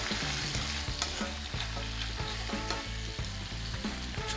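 Chicken pieces sear fat side down in a hot pot for one-pot Nashville hot chicken and rice, giving a loud, steady sizzle with a low rhythmic bubbling underneath, close and continuous with no talking.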